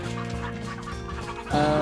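Desi hens cluck and chatter in a layer farm shed, several birds close by in overlapping calls that swell louder toward the end.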